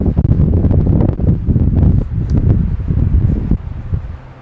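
Strong gusting wind buffets the microphone outdoors in a yard on a day too windy for flying a drone, a loud, rough roar that swells and dips throughout.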